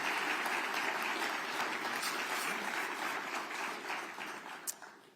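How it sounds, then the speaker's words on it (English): Audience applause for the New York governor and a mayor at a housing announcement, a dense, sustained roar of many hands clapping, somewhat distant, tapering off near the end. "Let's give the governor and the mayor another round of applause."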